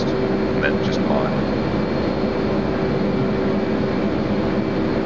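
A 737's jet engines drone in a flight simulator game, a constant, fairly loud roar with a steady whine that holds unchanged from start to finish.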